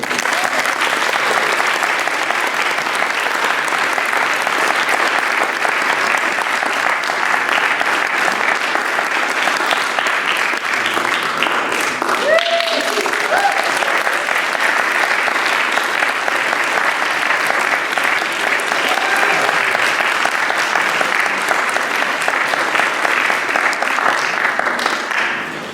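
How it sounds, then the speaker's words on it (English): Sustained audience applause for a 2015 Distinguished Economic Botanist Award recipient at a lecture, a steady dense wash of clapping from a large crowd lasting throughout, loud and continuous with no voices standing out. "Please join me in a thunderous round of applause"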